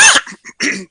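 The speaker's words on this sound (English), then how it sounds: "I must be getting really serious if I'm coughing." A single close, loud cough bursts out, followed by a couple of short throat-clearing hacks in a quiet indoor setting.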